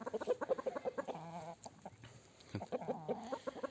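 Chickens and a turkey in a coop cluck in quick, rhythmic bursts nearby, with a longer drawn-out call in the middle and more clucking after.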